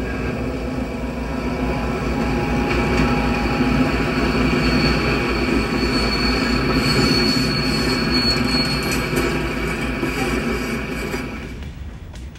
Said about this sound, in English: EMD E7A number 102 on the lead. Train number 1, the Limited, picks up orders at J.O.